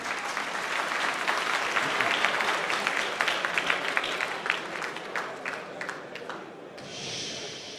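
A conference crowd applauds loudly with scattered chatter mixed in, the clapping dense at first and then thinning into individual claps before a quiet tail.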